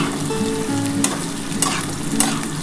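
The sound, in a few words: potatoes frying with onions, salt and turmeric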